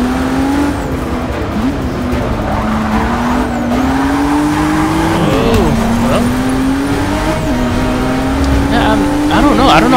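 A 2017 Ford GT racing in Forza Motorsport 6, its engine droning loudly and steadily, pitch rising through each gear and dropping at shifts, with tire squeal near the end and someone talking over it.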